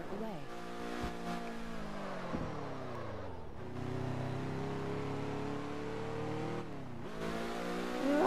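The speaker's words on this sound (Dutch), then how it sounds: "De auto klinkt best aardig, zou ik zeggen." A car engine in the game Test Drive Unlimited 2 revs and pulls steadily, its pitch rising and dropping across gear shifts, with someone speaking over it.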